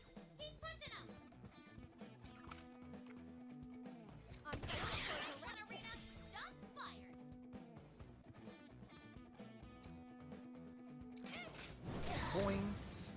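Gunfire from the tactical game Persona 5 Tactica rattles out in short bursts over a steady game music track, with a louder flurry near the middle and another near the end.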